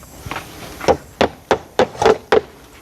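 Sharp wooden knocks of a hammer driving into timber in a forest while a roof is being prepared, about eight strikes coming at a steady, fairly close rhythm, the later ones louder.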